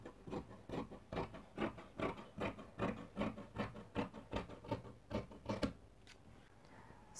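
Scissors snip through fabric for a wrap dress in a steady run of about fifteen crisp, close cuts, evenly spaced, before the cutting stops and the room falls quiet.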